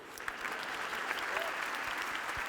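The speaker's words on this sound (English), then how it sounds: "if we could get one more round of applause" Steady audience applause fills a school foundation's fall breakfast gathering, a dense, even patter of many hands clapping at moderate distance without pause.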